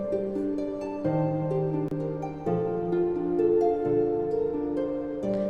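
Lively synthesized music from the video game Hollow Knight: Silksong, a track in its original key, with a moving bass line and bright melody notes, playing steadily without any voices.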